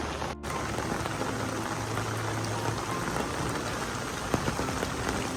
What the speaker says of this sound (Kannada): ಇವಾಗಂತೂ ಹೆವಿ ಮಳೆ ಬರ್ತದೆ